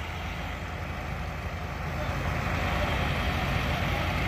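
Tractors idle steadily as they line up for a Labor Day tractor drive in New Middletown, among them a 2000 Ford and a Farmall H, giving a continuous low engine rumble that swells slightly toward the end.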